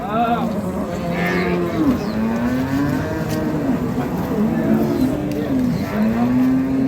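Several cattle give repeated, rising and falling moos at a busy rural livestock market selling dairy cows and calves, steady crowd murmur behind them.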